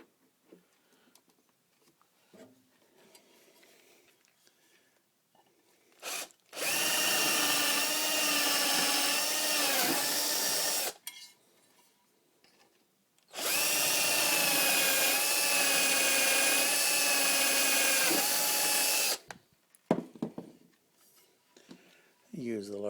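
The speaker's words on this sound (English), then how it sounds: "Use the larger drill bit to just take the sharp edges off the outside." A power drill with a larger bit deburrs the sharp edges of holes drilled in metal for a mast gate on a Dwyer mast, in two steady high-pitched whirring bursts of about four and six seconds, separated by quiet handling clicks.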